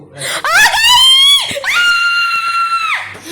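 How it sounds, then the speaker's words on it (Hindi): A person screams loudly in two long, high-pitched wails indoors, the first rising and wavering, the second held steadily before breaking off, with a short gasp between them. "तो चिल्ला क्यों रहा है?"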